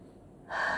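A voice imitates a dying person's last breath with one sudden long drawn inhalation, a close breathy gasp that rises and holds after a brief quiet lead-in.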